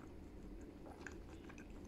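Close, quiet chewing and soft biting on shrimp dumplings (har gow) with chili sauce, a few small moist crunches over about two seconds with no talk.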